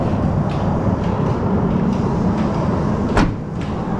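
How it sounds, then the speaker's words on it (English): A car trunk lid swings shut on newly installed trunk shocks, giving one firm thud near the end over a steady low rumble of background noise, with no voices. "See how the trunk closes now."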